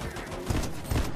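Two quick, heavy shotgun blasts boom in the video game Fortnite, the second following about half a second after the first amid brief noisy game sound.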